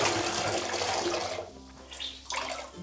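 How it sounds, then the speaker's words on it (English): A grouting sponge sloshes and is squeezed out in a bucket of clean water while tiling a bathroom, a close splashing rush that pauses briefly and resumes. "just take it back to your clean water and just rinse it out"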